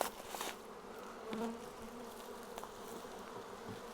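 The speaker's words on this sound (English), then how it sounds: "It's a lot of bees" A swarm of honey bees hums and buzzes steadily, close and dense, with a few louder buzzes passing by.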